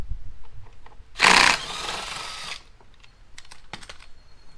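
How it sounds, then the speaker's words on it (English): An impact gun removing exhaust bolts on a 2018 Yamaha R6 gives one short, loud burst of rattling hammering, followed by a softer whir and scattered clicks of tools and parts nearby. "Get the gun back out just to make quicker work with it."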